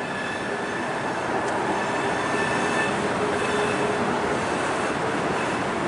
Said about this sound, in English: a long train.